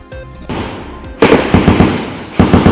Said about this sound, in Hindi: गोलियों की आवाज़ें सुन सकते हैं।